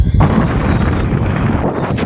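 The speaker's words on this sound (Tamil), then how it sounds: "அந்த அளவுக்கு காற்று வந்து ஹெவியாக அடிக்குது" Heavy cyclone wind blasting across Kovalam beach on Chennai's ECR coast, a loud, continuous roaring rush buffeting the microphone throughout with no break or talk.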